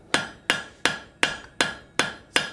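Steel ring being forge welded with a hammer: seven sharp, evenly spaced blows about half a second apart, close and loud with ringing decay, no voices.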